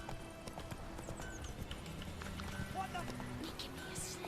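Roach, the horse in The Witcher 3, gallops with rapid rhythmic hoofbeats at moderate volume, and a voice talks over the running steps.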